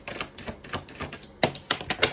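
Tarot cards being shuffled in split halves, a deck too long to hold whole: irregular papery slaps and riffles, close and fairly loud, with no talking.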